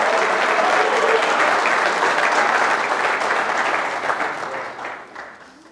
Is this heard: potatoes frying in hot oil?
no